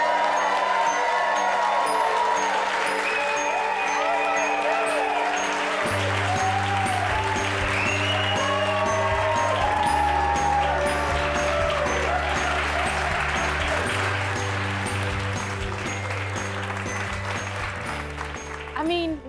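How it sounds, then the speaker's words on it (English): Minecraft HQ staff in Sweden clap and cheer for a guest, a dense, sustained wash of applause filling the room, while music or voices run steadily underneath. "even as people are clapping for you"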